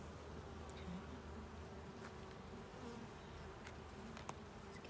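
A steady, low hum of many honey bees buzzing together, continuous and close, with no voices.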